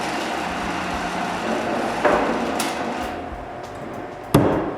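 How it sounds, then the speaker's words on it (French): Nails hammered through pre-drilled holes into the top of wooden guides on a miter saw cabinet in a workshop; two sharp, loud strikes ring out over steady background noise. "je plante des clous dans le dessus à travers des trous que je viens de faire"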